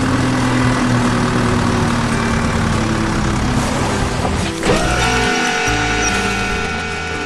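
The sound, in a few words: excavator engine crushing large rocks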